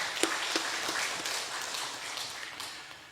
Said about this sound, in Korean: 격려의 박수 한번 해주시기 바랍니다